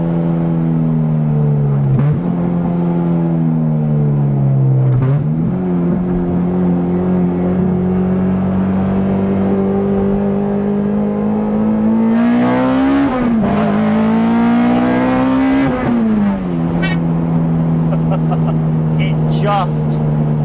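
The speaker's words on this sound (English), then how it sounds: "It's just a little tin can with 200 and something horsepower at the wheels that just revs." Honda CRX fitted with a K20 engine making about 200 wheel horsepower, revving hard and pulling through short-shifted gears. The close, loud engine note rises and drops with each shift, with a person talking over it.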